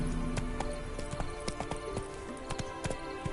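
Roach the horse gallops in The Witcher 3, making a quick, rhythmic clip-clop of hooves that stays steady and close throughout, with no voices.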